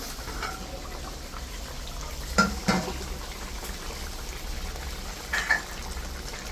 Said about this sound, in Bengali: এখন ঝোলে জালে উঠে গেছে।